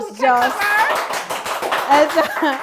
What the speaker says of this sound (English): I mean, hello, round of applause.